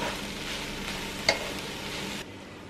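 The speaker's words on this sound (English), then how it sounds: "we're just gonna throw the spinach in and let it wilt a little bit" Spinach sizzling and wilting in a hot pan for a plant-based breakfast burrito, a steady broadband hiss with one brief clink partway through before the sizzle drops quieter.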